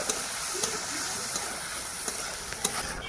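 Potatoes with spices and green chilli paste frying in a pan, a steady hiss with scattered sharp clicks of a spatula scraping and stirring, near and fairly loud.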